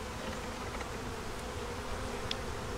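Honey bees hum around brood frames of a hive in winter, a steady, close, even drone without talk.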